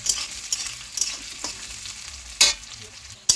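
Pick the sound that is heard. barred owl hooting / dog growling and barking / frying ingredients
frying ingredients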